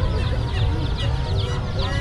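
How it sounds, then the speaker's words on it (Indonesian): Chickens cluck at a busy traditional market in Kedungwaru, with soft overlapping calls heard under a steady crowd din and nearby voices talking. "Nah ini ayam."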